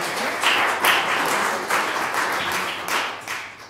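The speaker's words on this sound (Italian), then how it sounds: "Le facciamo un applauso di benvenuto." A live audience claps to welcome filmmaker Frederikke Aspöck, the second guest at a Europe Now talk, producing dense, steady applause with slight surges in intensity throughout.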